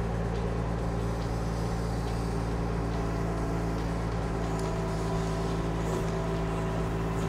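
Kymron XH26 mini excavator with a Kubota engine digging through roots, its diesel running as a steady, loud, droning rumble with a constant low hum throughout.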